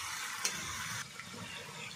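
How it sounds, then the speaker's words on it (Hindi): Hot water is poured into a potato and chicken curry in a pan, giving a soft, continuous splashing and gurgling rush with a brief sharper splash near the start, fairly close and moderately quiet. "ये गरम पानी दिहला"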